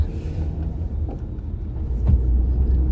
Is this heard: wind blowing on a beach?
no